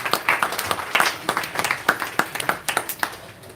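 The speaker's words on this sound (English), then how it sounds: "Can we give them a round of applause, please?" Audience applause at a satsang gathering: a steady patter of many hands clapping in a room, moderately loud and continuous throughout, with no talking over it.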